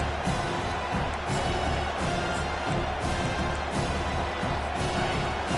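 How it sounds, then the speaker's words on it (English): A stadium crowd roars in the College Football 25 video game, a dense, loud and continuous wash of cheering that holds steady throughout, with no clear talk on top. "The roar of the crowd trying to fuel this defense to keep them pinned in their own end"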